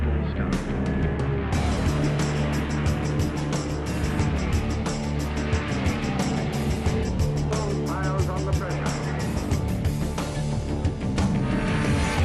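Loud roar of racing car engines revving and pulling away together at a Le Mans-style start at a hillclimb, a dense continuous mechanical din with rising engine tones throughout.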